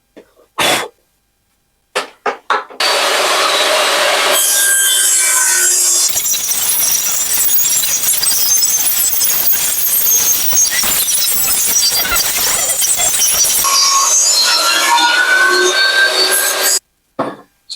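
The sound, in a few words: table saw cutting a scaffolding board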